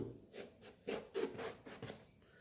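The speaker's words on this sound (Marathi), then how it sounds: "हे बघा आता जे वांग आहे आपण ते मध्यभागी असं वांग कापून घेऊ" A knife cuts an eggplant down the middle, giving a short series of soft rasping, rubbing strokes that are close and quiet, with no talking.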